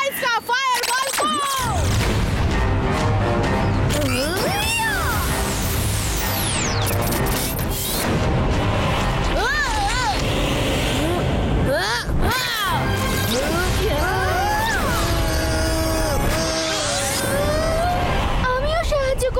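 Cartoon magic fireball attack in a super action animation: loud, continuous whooshing and crashing blasts with swooping tones and explosive hits, layered under dramatic music and shouted voices.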